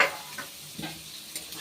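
Diced potatoes and carrots fry in a pan with a quiet, steady sizzle, broken by a few soft stirring scrapes close at hand.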